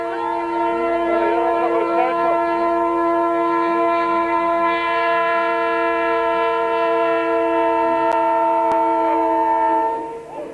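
A goods train horn blares in a long sustained chord, loud and close, as the train rumbles past steadily beneath it, during a rally.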